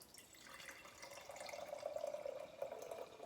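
Water from a Berkey gravity filter running steadily into a container, a soft continuous trickle that grows a little fuller as it goes, faint and close with no talking.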